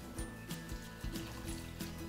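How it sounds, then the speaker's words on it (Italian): Water pours into a cooking pot holding drained lentils and pumpkin for a red lentil soup, giving a steady close trickle and slosh with bubbling low gurgles throughout and no talking. "copriamo a filo con l'acqua"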